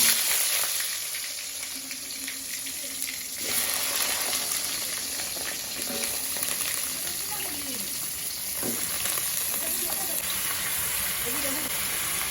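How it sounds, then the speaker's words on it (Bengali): Radhuni spice seeds are tempered in hot oil, producing a steady, close frying sizzle and hiss that continues under a person's speech. "দিলাম রাঁধুনি ফোড়ন, তেলটা গরম হয়ে গেছে"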